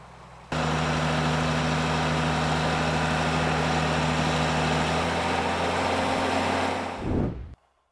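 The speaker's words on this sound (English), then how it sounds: "The digger's blades cut underneath the peanut pods as the tractor passes through the rows" A tractor pulls a peanut digger through field rows, its engine running loud and steady with a constant low drone and broadband roar that suddenly starts, holds, then drops away at the end.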